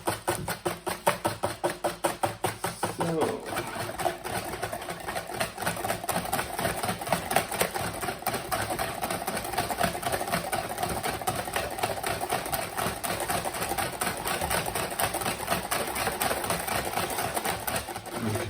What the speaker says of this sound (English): now that the eggs have gone in, you can feel that the whisking is changing a little bit